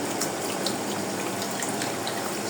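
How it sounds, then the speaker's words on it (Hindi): Water is poured into cornflour in a kitchen to start a sauce, a steady close splashing trickle running without pause and with no talking. "यहाँ पे थोड़ा सा पानी डाल के"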